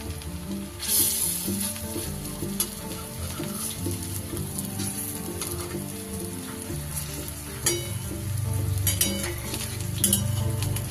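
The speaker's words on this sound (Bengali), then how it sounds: "সুন্দর করে লাল লাল করে ভেজে নেব" Raw green banana muitha dumplings fry in hot oil over a medium flame with a steady close sizzle, while a spatula now and then gently turns them, adding light scrapes and clinks against the pan.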